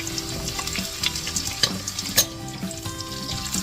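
A big batch of onions drops into a pan where garlic has gone golden for a Filipino stir-fried fish fillet, crackling loudly and steadily up close with scattered sharp pops and spoon clinks.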